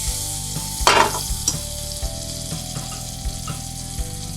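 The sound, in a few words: butter sizzling in a pan for toasting a burrito wrap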